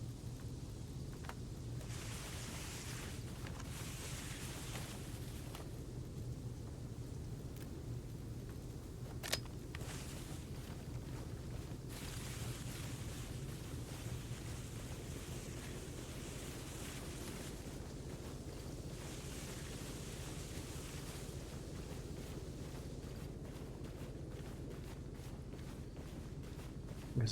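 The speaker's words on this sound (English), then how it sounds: "It's the sound of an engine." Engine in the Arma Reforger military game hums with a low steady drone and windy rumble, moderately distant and continuous, broken by a couple of sharp clicks.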